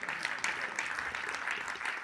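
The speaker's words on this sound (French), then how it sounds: "Et je vous demande de les applaudir très très fort, s'il vous plaît" A hall audience gives sustained applause for a team at a twentieth-anniversary celebration, a dense, steady wash of clapping at moderate distance with no break.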